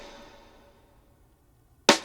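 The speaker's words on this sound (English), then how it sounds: "So like the processing on the snare before the effects sound like this," A single snare drum hit before processing effects, one sharp bright crack near the end, loud and alone after a faint fading tail and near silence.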